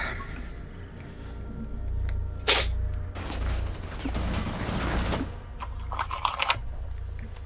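A burst of automatic gunfire from Rainbow Six Siege rattles for about two seconds mid-clip, fairly close and loud, framed by lighter clicks and scattered shots.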